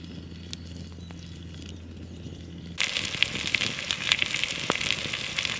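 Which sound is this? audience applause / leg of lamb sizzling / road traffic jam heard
leg of lamb sizzling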